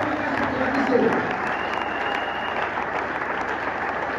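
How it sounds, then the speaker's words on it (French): Applause from a church congregation at a Sunday service in Congo-Brazzaville: a steady, dense clapping that fills the whole stretch, with crowd voices mixed in. "Acclamez Jésus le Père."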